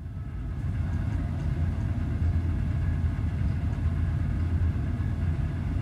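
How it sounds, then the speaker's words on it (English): A low, steady mechanical rumble from a self-emptying vacuum's motor runs continuously in the background, droning without pauses. "Sorry, my vacuum is self-emptying right now. You can hear it in the background."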